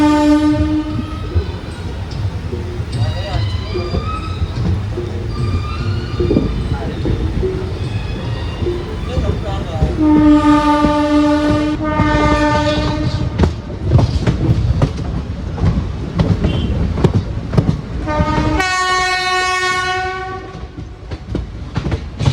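A locomotive horn sounds from the banker engine at the rear, then the front locomotive answers with long blasts as the train departs Punalur; engine rumble and wheel clatter run underneath, with people talking at times.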